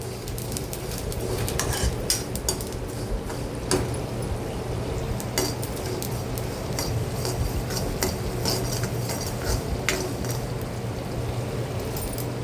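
Sesame and poppy seeds dry roasted in a pan for ghati masala, a steady dry rustling hiss with occasional light scrapes and clinks of a spatula, no talk.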